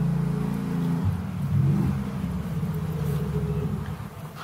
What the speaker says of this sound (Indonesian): mohon maaf karena ada motor banyak di luar sana